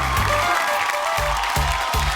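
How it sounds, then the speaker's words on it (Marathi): Studio audience clapping on a Marathi TV game show, dense steady applause close up throughout, with low thumping underneath. "बरं ठीक आहे, तर जोरदार टाळ्या होऊन जाऊ दे."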